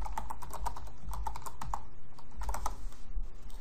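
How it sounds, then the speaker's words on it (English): Rapid typing on a computer keyboard, crisp close clicks in a steady uneven patter that continues throughout without pause. "we're going to type in our desired custom link"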